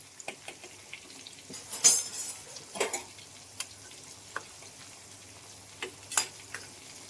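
Prawns (kolambi) frying in a pan, spiced for a kolambi fry: a quiet, steady sizzle broken by a few utensil clinks and scrapes against the pan, with no voices.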